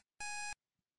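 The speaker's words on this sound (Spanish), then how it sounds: "Me está sonando como una alarma aquí" A single sharp electronic alarm beep rings out, clean and tonal, lasting about a third of a second, then quiet follows.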